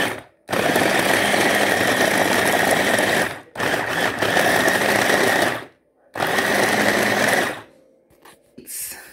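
A food processor chops beets in three loud grinding bursts separated by short pauses, then stops and leaves quiet room sound.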